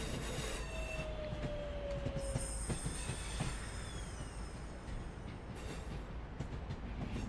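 Pendolino, Class 350 and Voyager trains run in Train Sim World 6 on the Trent Valley line, with continuous rail rumble, clicking wheels, a rising tonal whine and high flange squeals, without talk.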